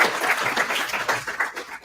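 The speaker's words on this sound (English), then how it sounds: "So give everybody a round of applause for that." Guests at a fitness product launch party break into brief, lively applause, close and loud, with dense overlapping claps that swell and dip over a couple of seconds.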